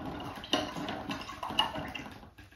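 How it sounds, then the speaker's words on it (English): A paintbrush loaded with acrylic paint is swished and rinsed in water at close range, giving faint sloshing and splashing that rises into two small swirls, then fades quietly. "Rinse all that paint out of my brush"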